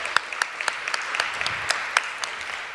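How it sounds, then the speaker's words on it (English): Scattered hand claps from a small audience at a Filipino literary symposium, about ten sharp, separate claps spread unevenly over a few seconds in a quiet room, with no talking over them. "So can we clap real quick for PJ?"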